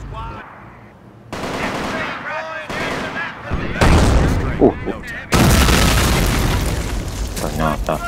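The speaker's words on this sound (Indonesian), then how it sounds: "Ternyata artileri mereka hebat sekali." Artillery shells booming and machine guns rattling in a modern-combat Company of Heroes battle, loud bursts and dense fire arriving in waves while someone talks excitedly over them.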